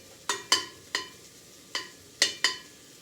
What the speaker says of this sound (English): I'm just gonna give them a little stir again